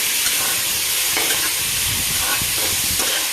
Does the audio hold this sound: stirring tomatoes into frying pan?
yes